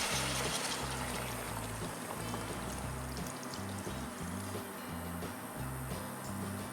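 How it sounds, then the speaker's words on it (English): Black sweet vinegar, 750 ml, being poured into a pot while cooking pig trotters, a steady continuous liquid pour heard over strong background music. "Add 750 ml of black sweet vinegar."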